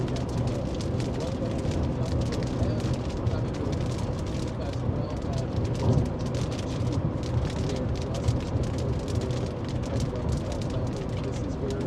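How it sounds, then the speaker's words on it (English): Heavy rain pours during a tornado-producing storm near Mayville, Wisconsin, a dense, constant hiss and patter that stays loud and even throughout. "We're about to get dumped on with some rain."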